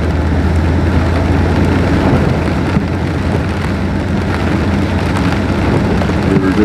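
Steady heavy rain falling outdoors on a chilly December day, a loud continuous hiss of drops with a low rumble underneath.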